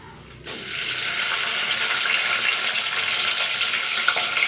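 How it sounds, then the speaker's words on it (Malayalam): Quarter teaspoon of fenugreek seeds dropped into hot oil: after a brief quiet moment, a sudden loud sizzling hiss bursts up and holds steady and close, without speech. "കാൽ ടീസ്പൂൺ ഉലുവ ഇട്ട് കൊടുക്കാം കേട്ടോ എണ്ണ ചൂടായി പൊട്ടട്ടെ"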